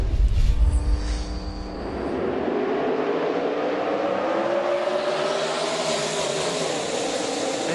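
Race cars at Charlotte accelerate on a restart, engines roaring as the field pulls away in a rising, sustained blare with a deep rumble fading early on, loud and continuous without talking.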